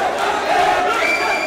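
Crowd at a national championship mixed martial arts semi-final, roaring and chanting a fighter's name; a loud, sustained wall of voices with rising yells, close and continuous throughout.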